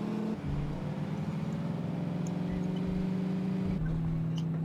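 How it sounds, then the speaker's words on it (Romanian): A fast car in The Saboteur roaring along at speed, engine droning loud and steady with a rising pitch and a clear gear shift near the end, close up with no talk. "Auzi, mașini de mașini, auzi viteza aia la ele."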